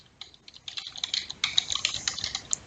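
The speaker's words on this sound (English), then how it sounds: "So let's go ahead and type this up." Rapid keystrokes on a computer keyboard, a steady close-up clatter of taps that grows busier and louder in the second half, with no voices.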